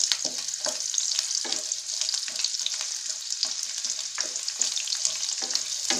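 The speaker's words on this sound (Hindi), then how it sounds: "इसी में हम डाल देंगे लहसुन, अदरक और हरी मिर्च, इनको भी हम कुछ सेकंड के लिए भून लेंगे।" Garlic, ginger and green chili fry in hot oil in a pan, giving a steady, close, bright sizzle with occasional crackles and stirring scrapes throughout.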